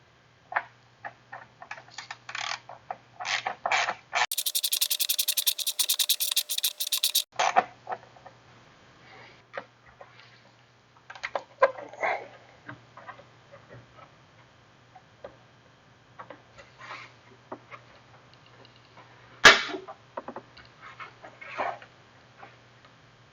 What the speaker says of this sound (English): we're going to go ahead and then unscrew these hose clamps right here around the mass airflow sensor and the throttle body